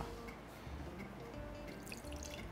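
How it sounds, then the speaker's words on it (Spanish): A little more water tipped into a pan of eggplant and tomato to rinse out a bowl, soft close trickling and dripping with a few light splashes. "Y ahora voy a poner aquí un poquito más de agua"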